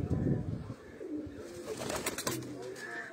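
Pigeons in a fancier's loft coo softly in low, rolling calls that repeat quietly at close range over faint background noise.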